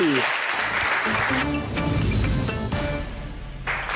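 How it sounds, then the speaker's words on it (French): A studio audience on a French television quiz show bursts into applause for a contestant, steady, loud clapping that swells and continues throughout, with a host speaking over it. "Merci de l'applaudir."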